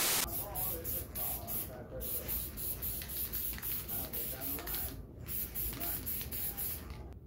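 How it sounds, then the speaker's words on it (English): Spray paint or clear wood finish is applied to wooden flag cross parts with an aerosol can in a series of short, hissing bursts repeated in a steady rhythm, fairly close and moderately quiet. "I also sprayed them with a little bit of clear wood finish."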